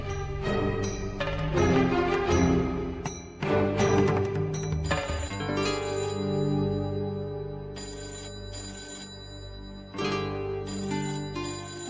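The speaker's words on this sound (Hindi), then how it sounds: "अब फोन उठाएगी बहुरिया?" Telephone ringing in a Hindi TV serial scene, a repeating electronic ring with music-like tones sounding steadily over a background score, with no one speaking.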